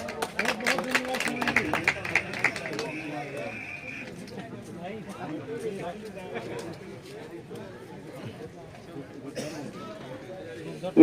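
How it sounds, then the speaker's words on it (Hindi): Audience applause for Suman ji at a village kirtan gathering, a burst of crowd clapping that fades after a few seconds beneath ongoing chatter and a voice over the speakers. "सुमन जी के लिए बस जोरदार तालियां"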